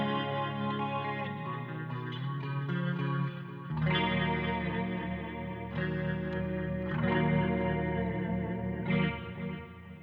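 An Arundel Reverend electric guitar with the bridge humbucker and the neck pickup coil-split gives bright, spanky chords with chorus and echo, strummed in a few sustained hits and ringing out moderately loud with no voice.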